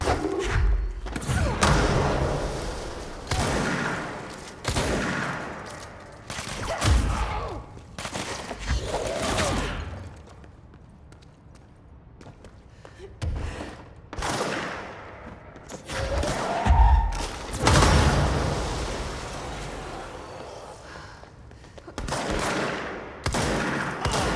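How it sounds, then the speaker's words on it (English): Combat from the video game Control, played without music: a dense run of heavy thuds, gunfire bursts and impacts, loud and close, rising and falling in intensity with a brief quieter lull midway and no speech. "Let's start this off by simply indulging in the sweet sounds of Control's combat without music."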